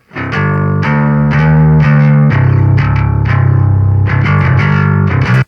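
A heavily distorted metal bass plays a run of loud, sustained notes through amp simulations, the tone tight yet fat with a boosted clanky top and added low end, ringing alone without talk.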